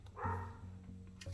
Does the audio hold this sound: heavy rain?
no